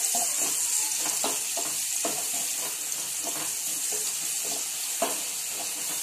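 Onions hit hot oil in a pan for a chicken varuval, giving a steady, bright sizzle that crackles continuously throughout at close range with no voices.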